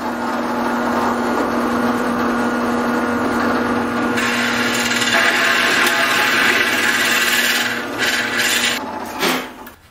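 A power tool runs at about 1100 RPM cutting through plywood, producing a steady, loud rasping whine that holds for most of the stretch, brightens partway through, then breaks off with a few scraping bursts near the end.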